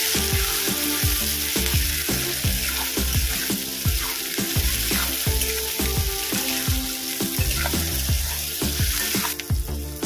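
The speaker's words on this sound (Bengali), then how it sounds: "আমি এবার কুচিয়ে রাখা টমেটো দিয়ে দেব। যতক্ষণ না টমেটো দিয়ে কাঁচা গন্ধ যাচ্ছে ততক্ষণ পর্যন্ত এটা ভেজে নেব।" Chopped tomatoes fry in hot oil for chingri posto, a steady loud sizzle with occasional stirring, heard under rhythmic background music.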